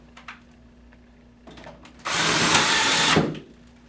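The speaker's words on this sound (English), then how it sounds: "I'm going to drive a couple screws through the brackets, and I'm going to start with the bottom" A power nut driver with a 1/4-inch bit drives a number 8 hex screw through a whiteboard bracket: a few light taps, then a loud, steady whirring burst of about a second that stops abruptly, close up.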